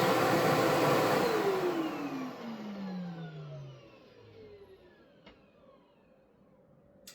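A new-old-stock Riccar Impeccable canister vacuum cleaner's motor whines loudly, then winds down with a falling pitch and fades to a quiet hum, with no talking.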